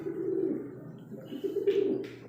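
A breeder bird that has returned home gives soft, throaty cooing calls, a few low rolling phrases up close with brief pauses between them, heard alone without talk.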